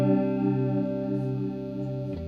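Sustained wavering chord through a Swindler Effects Gulf chorus/vibrato pedal at an extreme setting, thick warbling modulation holding steady before a brief glitchy break at the end.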